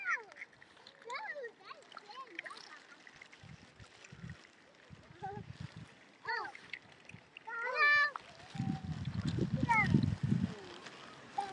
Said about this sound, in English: I've got all the swans to myself today.